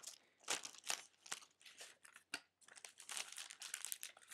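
Cigar box being opened and its thin cedar sheet lifted out, giving close, quiet crinkling and papery rustles in irregular bursts, with one sharp crackle midway.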